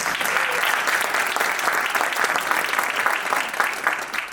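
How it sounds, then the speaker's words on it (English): An audience at a board installation ceremony applauds, a loud, sustained, even wash of many hands clapping at once, close and continuous throughout. "So please give him a round of applause."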